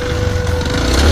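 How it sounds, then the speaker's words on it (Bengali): A motorcycle idles close by at Kuakata, giving a loud, steady low engine drone with a faint buzzing rattle throughout. "আমাদের বাইজিৎ দেখতেছেন হচ্ছে মোটর সাইকেল নিয়ে আসছে"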